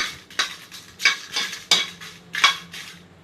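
Green chillies being stirred in a pan for tamarind chutney, with a series of sharp metallic scrapes and clinks of the spoon against the pan, each followed by a brief faint sizzle, close and loud.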